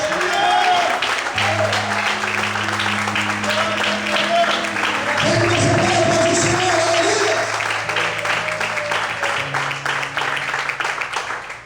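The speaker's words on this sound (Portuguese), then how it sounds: "Vamos para aplaudir e exaltar o Senhor essa noite" An audience applauding in a church during a sermon, sustained dense clapping filling the room while music plays alongside.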